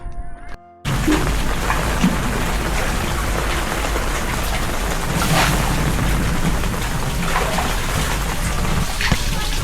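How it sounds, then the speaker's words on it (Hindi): Heavy rain pours down over a flooded street in Sindh, a dense, loud hiss of water that starts abruptly and then continues unbroken, with faint splashes in it. "उस सिलसिले की पहली बारिश आ चुकी है और गली में पानी भर गया है"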